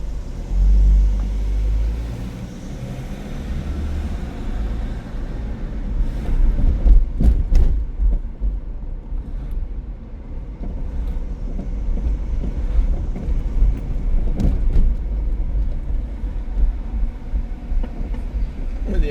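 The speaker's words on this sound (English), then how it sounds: "on the sway bar on this thing worn out, you can hear it down there going clank, clank, clank, clank, clank" A worn sway bar clanks on a Toyota driving through Seattle. Its irregular knocks and thuds come from under the car over a continuous road rumble and engine noise, with no talking.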